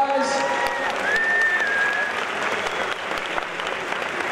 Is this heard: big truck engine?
no